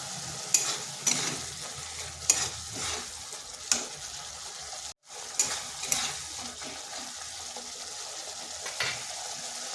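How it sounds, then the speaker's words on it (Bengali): Potato and cauliflower curry masala with peas sautéing in a pan, a steady close sizzle broken by repeated scraping stirs at an even pace, with a brief dropout midway. "এটাকে আর একটু কষে নিচ্ছি"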